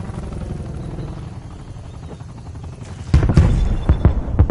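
A helicopter hovers in a Cold War first-person shooter, a steady low rotor drone that turns louder and harsher past midway, with sharp bursts of gunfire and impacts cutting in near the end.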